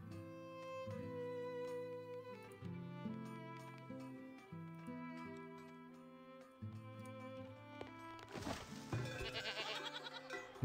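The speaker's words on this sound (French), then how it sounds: "On a quand même 6 chèvres." Goats bleat in the village-building game Farthest Frontier, quiet animal calls mixed over sustained melodic game music, with a busier burst of sound near the end.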